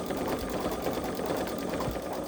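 A Baby Lock Solaris embroidery machine stitching a sheer Luna Moth design, giving a fast, steady mechanical whirring and rapid needle rhythm that runs continuously and close by.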